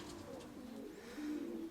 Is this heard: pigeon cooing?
yes